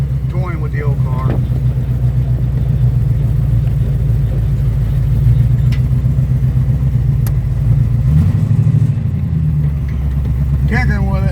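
A 1973 car engine runs with a steady, loud low rumble close by, holding its pitch and shifting briefly near the end, while someone talks over it.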